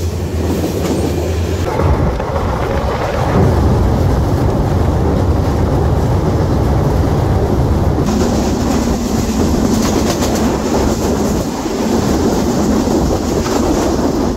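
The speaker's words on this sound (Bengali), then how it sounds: "এই পাশে জয়দেবপুর কমিউটার ছেড়ে যাচ্ছে ঢাকার উদ্দেশ্যে" The Joydebpur commuter train pulls out of a station toward Dhaka, very loud and close, with a continuous rumble, rattling carriages and rhythmic wheel clatter throughout.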